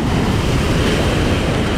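Rough winter sea waves crash and churn steadily onto a rocky beach in Turkey, loud and close, with wind buffeting the microphone throughout.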